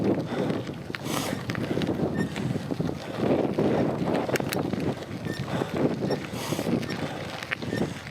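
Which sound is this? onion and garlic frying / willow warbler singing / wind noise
wind noise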